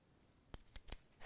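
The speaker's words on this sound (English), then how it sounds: "snip that away" Scissors snip through tape on a ring of a kit-made lampshade: three quick, crisp cuts close by, with a brief rustle of handling just after.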